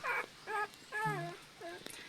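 Puppies whimpering in a home: four short, high, wavering whines with brief pauses between them, close and fairly soft, with faint background noise.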